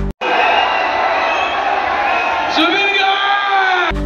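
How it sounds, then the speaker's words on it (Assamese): A large crowd roars at the name of Zubeen Garg, with loud sustained cheering, whoops and shouts filling the clip after a brief gap, swelling again near the end. "নামটো শুনিলেই সকলো চিঞৰি উঠে"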